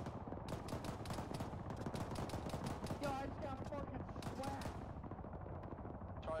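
Gunfire from fortifications in a town in the video game Arma 3, loud rapid bursts of automatic fire and overlapping shots, with voices in the background.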